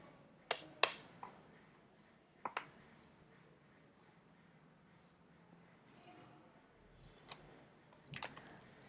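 Sparse keyboard key presses while an SQL query is typed, a few sharp clicks in small bursts separated by quiet gaps, with a voice speaking softly.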